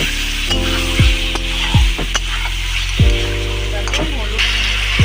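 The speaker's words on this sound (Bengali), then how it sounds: "কাঁচা লঙ্কা গোটা ভালোভাবে নেড়ে চেড়ে নিলাম।" Whole green chillies fry with tomato in a hot pan, giving a loud continuous sizzle broken by several scraping strokes of a spoon as they are stirred.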